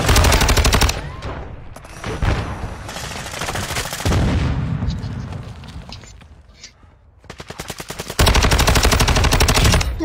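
Video game gunfire crackles in loud rapid automatic bursts, near and harsh, with pauses between volleys and softer shots and movement in the gaps.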